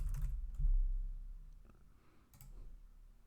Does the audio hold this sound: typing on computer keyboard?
yes